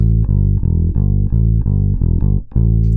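Bass guitar playing the main riff of a song: loud, close, repeated plucked low notes in a tight rhythmic pattern with a brief gap near the end before the riff resumes.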